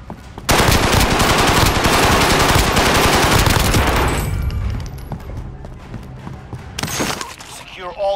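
Call of Duty Modern Warfare gunfire: a long burst of rapid, loud automatic shots rattles for several seconds, then tapers into scattered shots and impacts under some voice chatter.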